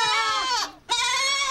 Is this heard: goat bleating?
yes